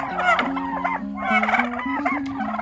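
Farm turkeys raised from young poults give repeated harmonic gobbling and clucking calls, several overlapping bursts close by and fairly loud, with no talking.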